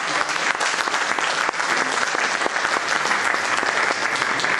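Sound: audience applause for the mayor

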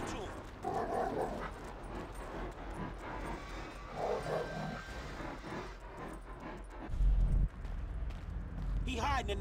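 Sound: dog barking in video game Grand Theft Auto V

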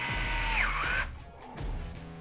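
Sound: reinstalling screws with a 3 mm hex driver on Arrma Kraton 8S

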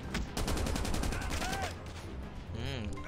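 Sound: RPD machine gun firing in video game Call of Duty Mobile

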